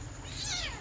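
A cat gives a single short meow close by against steady background hiss, lasting under a second with no talking.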